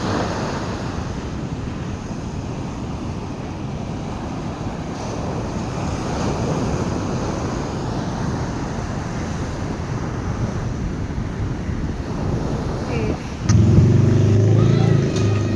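Ocean waves roll and break on a sandy beach at Drini Beach, a steady broadband wash of surf with wind buffeting the microphone, growing louder near the end.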